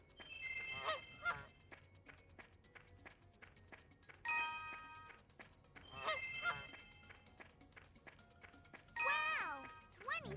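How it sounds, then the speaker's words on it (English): Goose honks in the PS1 game Dora the Explorer: Barnyard Buddies, four separate loud honking bursts spaced a couple of seconds apart over a quiet musical background. "It's a goose."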